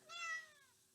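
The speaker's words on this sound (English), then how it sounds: "Hello, cat. Kitty Tesla wants to say hello." A cat gives a single clear meow, rising then falling in pitch, close and fairly quiet, with no talk over it.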